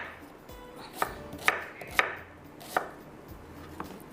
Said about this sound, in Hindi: 1 अदद प्याज इसमें और कटिंग करके डालती हूँ और चॉपर में डाल के हम पीस लेंगे